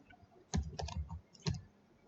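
Quiet keystrokes on a computer keyboard while Arduino code is typed, a few scattered clicks in two brief bursts, faint and close, with no talking.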